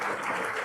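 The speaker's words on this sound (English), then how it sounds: "Another big round of applause for all of them" A brief burst of audience applause for panel speakers at a conference session on democracy, a short, steady wash of clapping in a hall.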